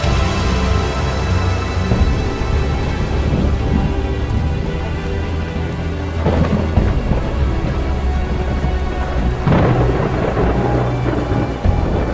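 A heavy thunderstorm pours dense, loud rain in a constant roar, with deep rumbling thunder rolling through repeatedly beneath the downpour.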